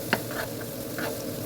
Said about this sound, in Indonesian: saya di sini punya bawang putih, beberapa siung, dan dikasih minyak zaitun. Akan saya tumis.